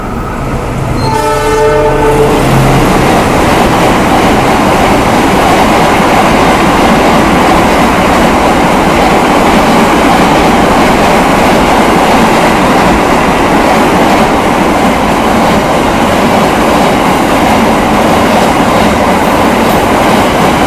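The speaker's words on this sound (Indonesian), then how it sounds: "Mari kita tunggu kereta api apa yang akan lewat dari arah yang berlawanan." A train horn blares briefly at the start, then a loud Indonesian passenger train rushes past close by on an opposite track, with a continuous roar and rattling wheels.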